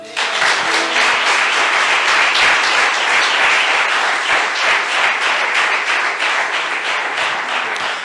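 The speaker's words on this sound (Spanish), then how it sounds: "Yo le daría un aplauso al Señor." A church congregation breaks into loud, dense, sustained applause, a thick wash of many hands clapping at once that holds steady for the full eight seconds.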